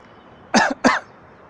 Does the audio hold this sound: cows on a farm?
no